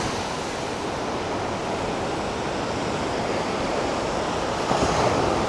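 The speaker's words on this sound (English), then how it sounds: "the waves coming in sort of like that." Ocean waves roll in at a beach in Bali, a continuous loud wash of surf with a slight swell toward the end and no voices.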